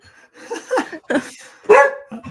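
A dog barks several times nearby, loud short yips and barks in separate bursts with brief pauses between them.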